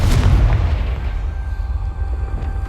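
In the Hogwarts Legacy video game, a Confringo blasting spell explodes with a loud, deep boom. A rumbling tail fades over a couple of seconds.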